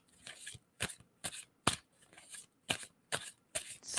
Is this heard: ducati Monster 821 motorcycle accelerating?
no